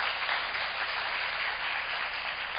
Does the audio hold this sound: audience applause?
yes